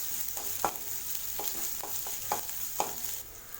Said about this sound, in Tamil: சில்லி ஃப்ளாக்ஸ் சேர்த்துட்டு நல்லா வதக்கி விட்டாச்சு